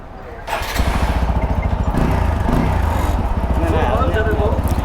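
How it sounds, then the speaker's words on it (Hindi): A TVS Apache 200 4V motorcycle engine idles with a steady, rapid ticking tappet noise after it catches at about half a second, running loud and close for the rest of the clip, with no voices over it. "टैपेट का इशू फिर से आ चुका है, टैपेट नॉइस थोड़ा बढ़ गया है गाड़ी का"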